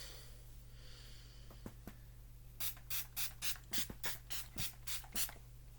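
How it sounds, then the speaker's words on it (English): Several short aerosol spray bursts hiss in quick succession, nearly evenly spaced, following a few faint clicks in an otherwise quiet room. "And just a light spray."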